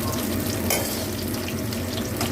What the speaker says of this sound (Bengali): এবার আমি এতে মেথিটা ফোড়নে দিয়ে দিলাম, লঙ্কাটা ফোড়নে দিয়ে দিলাম